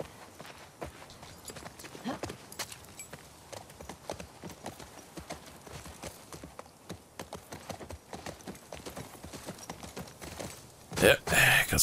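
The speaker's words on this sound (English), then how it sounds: "Okay, back on the horse." Hooves clip-clop steadily as a horse is ridden in The Last of Us Part II, a walking rhythm of close thuds. A voice talks over the hoofbeats, and a louder burst comes near the end.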